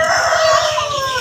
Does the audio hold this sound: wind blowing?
no